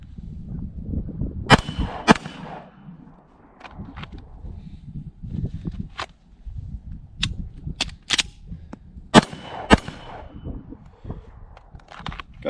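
A handgun fired at a practice range: a series of sharp, loud single shots at irregular intervals, some in quick pairs, over a background of shuffling and handling noise, with no talking.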